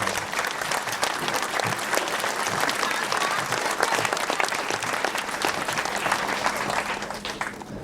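Applause at an Irish republican commemoration for the Roddy McCorley group, a crowd clapping steadily and fairly loudly throughout, thick and continuous with a slight fade near the end.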